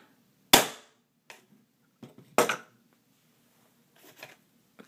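A self-cocking pistol crossbow fires a bolt with a sharp, close snap, followed by a second crisp crack a couple of seconds later and a few lighter mechanical clicks and rattles.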